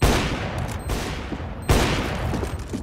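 Gunshots in CS:GO, two loud sharp blasts with a noisy decaying tail, the second about a second and a half after the first, with scattered quieter shots around them.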